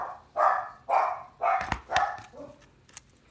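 A quick run of dog barks, about five in steady rhythm, close and loud, followed by a few softer yips and a thump.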